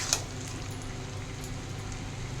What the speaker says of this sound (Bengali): আমি এই চিংড়ি মাছগুলো দিচ্ছি, দিয়ে আর একটু কষিয়ে নিয়ে ফিরে আসছি